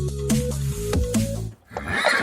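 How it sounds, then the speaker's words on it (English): A horse neighs loudly and close up, a series of shrill whinnying calls with a brief pause before a final snort and rustle. "there's a massive horse in my front room"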